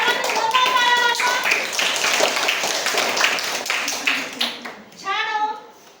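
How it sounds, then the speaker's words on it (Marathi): An audience claps loudly at a quiz show for students, a burst of hand claps mixed with voices talking over it, tapering off before a final short spoken phrase. "सर्वांनी जोरदार टाळ्या वाजवा"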